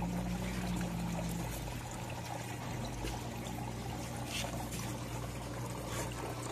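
Water pouring into an aquaponics sump after passing a filter of onion sack, gravel and a blanket: a steady, continuous splashing trickle that stays even throughout, close and alone.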